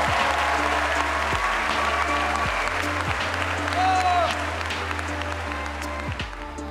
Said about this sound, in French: Applaudissez les artistes!